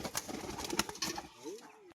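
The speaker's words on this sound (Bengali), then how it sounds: "দেখুন এক জোড়া সেটিং পায়রা" A breeding pair of pigeons, cooing softly close by, with a low rolling coo near the end after some faint rustling and background noise.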